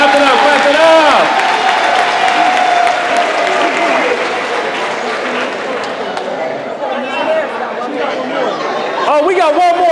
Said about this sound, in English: Clap it up for that. Clap it up.